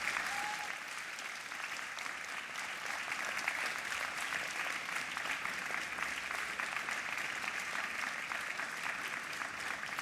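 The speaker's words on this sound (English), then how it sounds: "Please join me in giving them a warm round of applause to express our heartfelt gratitude." Sustained audience applause at a university graduation ceremony for a science, medicine and health faculty, dense and steady throughout, a large crowd clapping evenly from start to finish.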